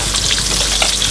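Rendang spices stir-frying in an iron wok, a dense continuous sizzle with faint scraping of the stirring, close and loud.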